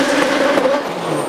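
A hillclimb race car with an onboard gas turbine feeding a 1700cc Cosworth BDT engine, running at a steady, loud engine roar with a sustained whining tone and broad rushing noise throughout.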